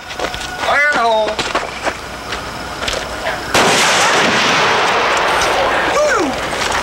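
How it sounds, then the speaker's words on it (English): A sharp blast from a cannon erupts midway into a loud, sustained roar, preceded by shouting voices and followed by a whoop. "Cannon's over here. Blowing it up."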